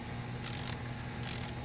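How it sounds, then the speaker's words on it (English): Two short bursts of rapid metallic ratcheting as a hose clamp band near a car engine's throttle housing is loosened with a 10 mm ratchet, close and crisp over a low steady hum. "This band, you can use a 10 or you can use a Phillips. I'm just loosening that up"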